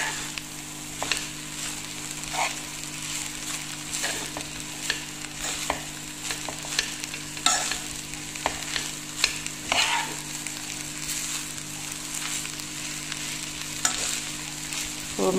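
Tuna samosa filling frying in a pan over raised heat, a steady close sizzle with repeated scraping stirs of a utensil at irregular intervals, no talking.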